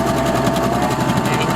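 A Baby Lock Vibrant serger stitching fabric runs in a fast, steady mechanical rattle with a constant motor drone, close and loud from start to finish.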